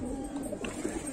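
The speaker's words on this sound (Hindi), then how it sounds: "देखिए ये है कबूतर" Soft, low cooing from pet pigeons sounds close up in a short continuous burrowing murmur, with faint background voice and noise.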